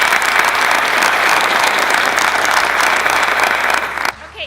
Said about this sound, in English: I want everybody to clap as loud as they can.